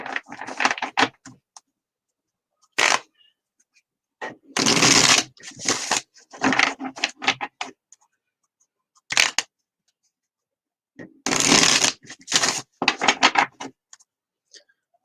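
Rider-Waite tarot deck being shuffled by hand in close, crisp bursts of riffling and flicking, separated by silent pauses, with no talking.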